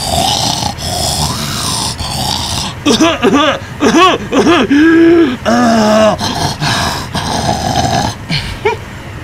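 A voice imitates very loud snoring, producing a run of rough, rasping, gurgling snorts in uneven rhythm, close and loud over steady background noise.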